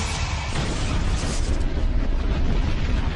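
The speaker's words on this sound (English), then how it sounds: "The resulting spark ignites the deadly mix of fuel and air. Disaster strikes. The explosion blows out one of the inner panels." A dramatized fuel tank explosion aboard TWA Flight 800, a loud, sustained roaring blast of dense rumbling noise with no voices over it.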